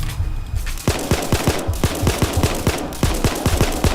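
Rapid automatic gunfire in the heist shooter Payday 2, a fast sharp burst of evenly spaced shots after a short lead-in, loud and close, with no talk over it.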